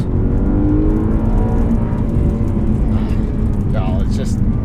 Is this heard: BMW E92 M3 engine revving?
yes